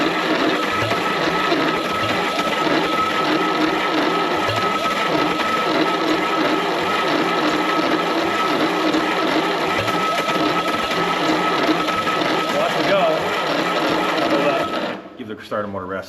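A Ford Model A engine is turned over by its starter motor in a loud, steady, rapid mechanical whir that runs for about fifteen seconds before cutting off, with people talking nearby.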